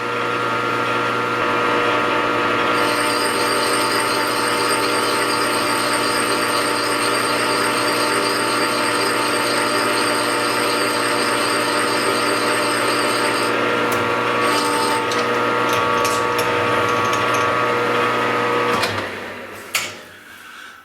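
A metal lathe cuts the first pass of a thread on an oil cup in a workshop, a steady loud machine whine with tonal harmonics running nearly twenty seconds before winding down near the end.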